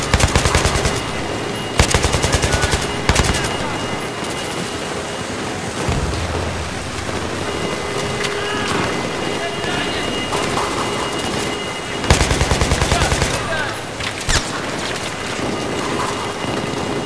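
Battlefield 3 video game gunfire: loud bursts of rapid automatic fire come at intervals, separated by a dense, hissing rumble of battle noise.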